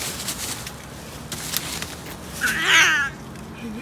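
A cat outdoors lets out a single loud, drawn-out meow near the end, after rustling and scattered noises.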